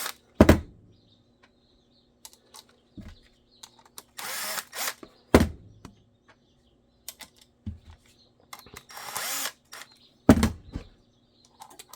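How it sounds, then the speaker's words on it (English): A drill bores holes in a level 2 holster for a CZ SP-01 pistol with a TLR-1 light, two sustained whirring bursts close by, separated by sharp taps and clicks on a workbench. "make sure you drill those holes correctly"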